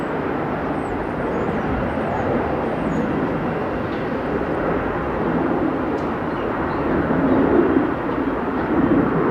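A Qantas airliner taxiing at Melbourne Airport, a loud, steady low engine rumble and roar that fills the whole stretch, with faint radio chatter in the background.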